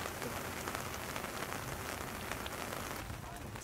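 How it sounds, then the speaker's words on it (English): Heavy rain pours down steadily, a dense hiss of drops pattering on surfaces close by, with no voices. "It's now raining really hard."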